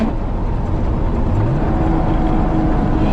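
A 1974 Porsche 911 Carrera turbo with a ruined transmission accelerates under boost, giving a loud, continuous close engine roar that holds steady throughout.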